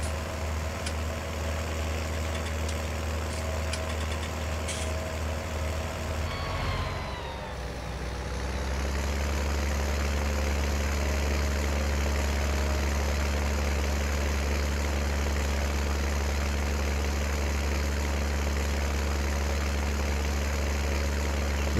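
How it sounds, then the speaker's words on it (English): A small tractor fitted with a big engine in Farming Simulator 19 idles and rumbles steadily, a low heavy drone with a brief dip in pitch before it settles into a louder, constant engine tone. "Got the big engine in this poor little tractor, but it does not have the power"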